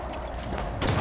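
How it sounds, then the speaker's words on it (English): Gunfire in Halo 5 during a Warthog sumo pit match, a dense rattle of shots that swells into a louder burst near the end of a single second. "Stop shooting me!"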